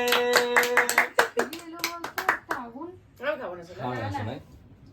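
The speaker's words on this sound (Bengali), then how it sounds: "জোরে হাততালি" Hand claps ring out at a family midnight birthday celebration for a mother, several sharp claps in quick succession at the start while people sing and talk over them, then voices carry on without clapping.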